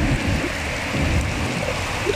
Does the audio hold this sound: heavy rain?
yes